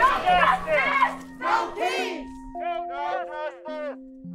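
Protesters at a march shout and chant together in a loud crowd, with overlapping raised voices and sustained tonal calls, fairly close and continuous throughout.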